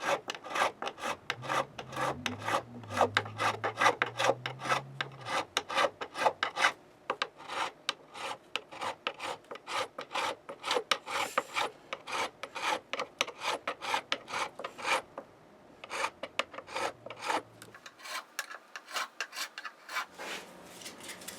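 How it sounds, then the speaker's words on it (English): A file rasps rhythmically across the frets of a Gibson ES 137 guitar during crowning, close and fairly quiet, with dozens of short, regular strokes and brief pauses between passes. "encouraging that tooling swath of the file towards the center of the crown without actually touching it."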